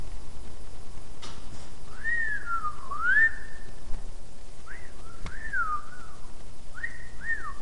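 A person whistles nearby in short rising and falling phrases, repeated several times with small pauses, over faint room noise and without talk.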